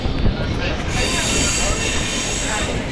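A Chennai suburban train runs along the rails with a loud, continuous rumble and wheel squeal, heard from on board as a steady, dense roar through the whole stretch.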